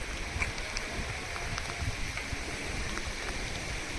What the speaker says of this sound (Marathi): तेथून आता आपण गोड नदी पात्राचे पूरस्थितीचे छायाचित्रण करत आहे